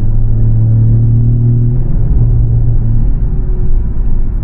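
A turbocharged truck engine drones steadily while driving, a loud, close, continuous low rumble with a sustained hum that shifts slightly in pitch.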